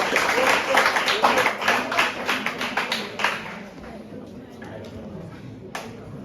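An audience at a basic schools science and maths quiz final claps for a team, a brisk burst of applause for about three seconds that dies away to quiet room noise with a stray clap.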